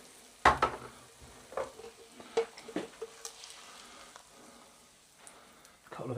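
Sausages and bread frying in a pan, a quiet sizzle with a few sharp pops and scrapes of stirring scattered through it, no talking.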